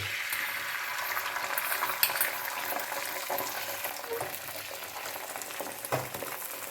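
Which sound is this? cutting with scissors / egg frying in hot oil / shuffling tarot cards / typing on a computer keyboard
egg frying in hot oil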